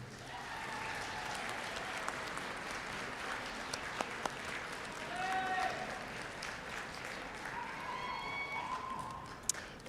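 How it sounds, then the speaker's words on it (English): A commencement audience at MSUM applauds graduates' families and friends, a steady mid-level wash of clapping across the whole stretch, with some voices and brief tonal sounds mixed in. "graduates, I invite you to turn and applaud your parents, families, and friends who have supported you"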